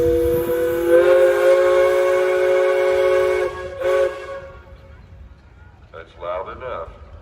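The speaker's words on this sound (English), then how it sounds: "Mr. Gasper, you got a whistle? Any more? Any more? Here it comes." Steam engine whistle at a threshers' steam show gives a loud, sustained, steady blast lasting a few seconds, then cuts off, followed by crowd murmur and a voice talking.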